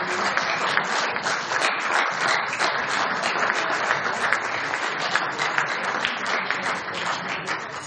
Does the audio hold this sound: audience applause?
yes